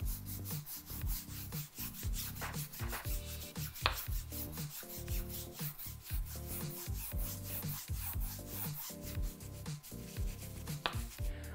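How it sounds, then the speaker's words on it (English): A brush working multi-purpose oil into the knurling of a barbell, giving steady close scrubbing strokes in a quick, regular rhythm, with no talking. "I'd go ahead and brush that in as well."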